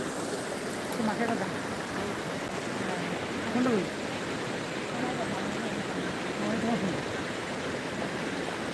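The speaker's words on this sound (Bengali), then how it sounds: "প্রচণ্ড স্রোতে জল যাচ্ছে।" A strong stream current rushes in a steady, hissing roar, and faint voices sound briefly over the constant flow.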